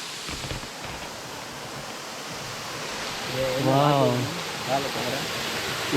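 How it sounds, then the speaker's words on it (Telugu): A large waterfall at Mallela Gundam in the Nallamala forest gives off a steady, loud broadband rush of falling water, with a brief voice-like tonal sound rising over it midway. "ఇక్కడ ఒక పెద్ద జలపాతం పారుతుంది మీకు సౌండ్ వినిపిస్తూ ఉంటుంది"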